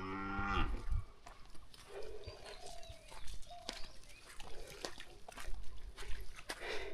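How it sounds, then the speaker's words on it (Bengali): Cattle at a rural home in a sunbaked village moo a couple of times at close range, with a brief loud low call at the start and then quieter calls. Shuffling and other farmyard noises fill the background. "এই গরু দুইটা আমাদের"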